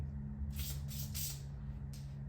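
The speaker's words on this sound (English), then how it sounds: "Spraying this little lip here and rubbing it down with the rag." Aerosol lubricant sprayed onto a noisy garage door opener in several short hissing bursts, three in quick succession and then one more, over a low steady hum.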